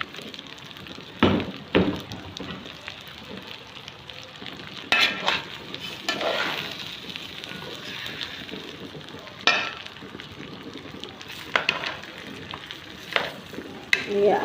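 Koshary with lentils, rice, potatoes and eggs is stir-fried in a pan. A soft sizzle runs under irregular scraping stirs and a few sharper clatters, close by, with no talking.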